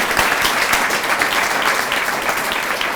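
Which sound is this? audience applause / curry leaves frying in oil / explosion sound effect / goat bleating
audience applause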